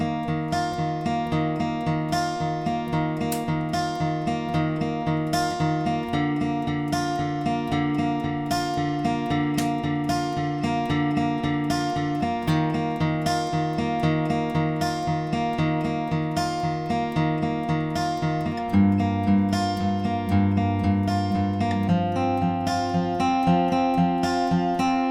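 Fingerpicked acoustic guitar outro of a song, steady arpeggiated chord patterns ringing out close and clear with no talking, shifting chords partway through.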